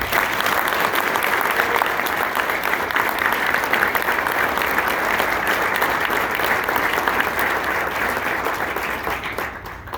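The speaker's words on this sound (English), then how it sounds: "Let's give him a round of applause." A round of applause at a varsity football banquet, steady loud clapping from a large crowd that holds for about ten seconds and tapers slightly at the end.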